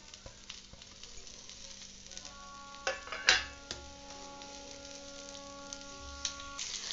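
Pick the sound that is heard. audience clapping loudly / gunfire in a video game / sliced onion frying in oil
sliced onion frying in oil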